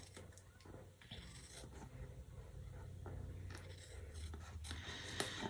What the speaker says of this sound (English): just give it a little trim with my scissors